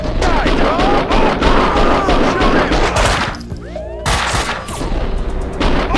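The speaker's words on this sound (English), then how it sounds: "Being shot at." Gunfire in the video game Max Payne 2: dense bursts of shots crackle loudly and continuously, pause briefly near the middle, then resume.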